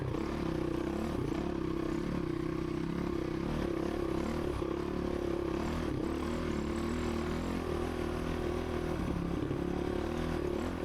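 A dirt motorcycle on a desert race course revs with a steady, buzzing engine drone and rattling chassis clatter, close and continuous throughout.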